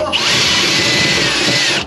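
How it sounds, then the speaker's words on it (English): A power drill runs steadily, close and loud, as it drills holes into a car, whining continuously for about two seconds before stopping. "Irresponsibly drilling holes in my car."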